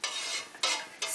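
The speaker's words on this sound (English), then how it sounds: "Stir it." Yarn is stirred in cool dye water with added vinegar, giving three quick watery swishes in a row, close and fairly soft.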